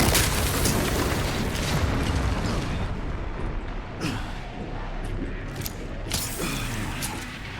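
Mortar launcher explosions in Resident Evil Requiem, a dense rumbling roar with deep booms and a few sharp cracking hits toward the end, continuous and heavy, no voices over it.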